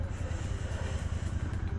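A Royal Enfield GT 650 twin-cylinder motorcycle idles close by in a narrow lane while being parked, its low engine pulsing in an even, rapid thump, steady and moderately loud.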